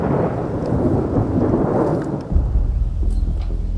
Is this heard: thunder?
yes